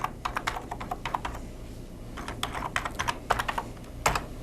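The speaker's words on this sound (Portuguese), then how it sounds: "Tudo que eu estou digitando" Fingers type a website address on a computer keyboard in a steady, close patter of clicking keystrokes with brief pauses, and no one speaks.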